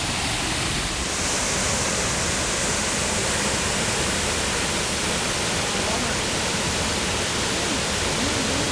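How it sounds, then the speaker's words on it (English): A waterfall in a North Carolina mountain valley roars steadily, a loud, unbroken broadband rush close by that masks everything else. "A very beautiful waterfall."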